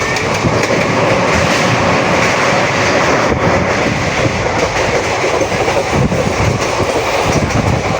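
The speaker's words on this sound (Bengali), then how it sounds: "আর আমাদের পেছনেই আছে লোকাল ট্রেন, সেটা হচ্ছে হাসনাবাদ গ্যালোপিং লোকাল।" A Tista Torsa Express passenger train from Sealdah runs at speed on the rails toward New Jalpaiguri, giving a loud, continuous rumble with rhythmic clatter that stays close and steady throughout.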